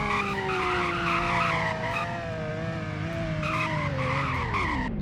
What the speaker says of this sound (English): braking takes quite a while to stop